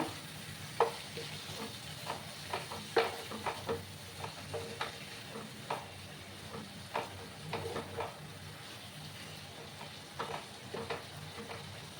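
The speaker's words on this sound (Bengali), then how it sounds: "সামান্য একটু জল আমি অ্যাড করে কষাবো।" Small shrimp masala being stir-fried with a splash of water in a pan, a soft continuous sizzle with intermittent spatula scrapes and taps, close and moderately quiet.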